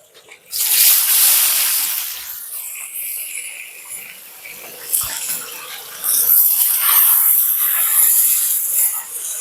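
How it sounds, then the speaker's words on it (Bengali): Chopped onions dropped into hot oil in a wok for a village-style Bengali fish and egg curry burst into a loud, hissing sizzle that stays strong and steady throughout, with brief stirring clatters. "এবার দিয়ে দেবো কুচিয়ে রাখা পেঁয়াজটা"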